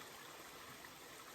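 A mountain brook in southern Maine flows beside a campsite, a steady, even rush of water filling the short moment with no voices.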